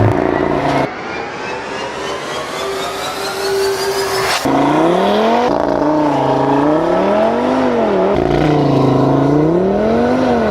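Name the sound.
2018 Audi TT RS accelerating hard with launch control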